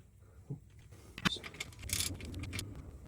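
A wrench tightens the drain plug on an RK55 tractor during a 50-hour service, giving a few close metallic clinks and scraping jangles, with a rattling burst midway against faint background rumble.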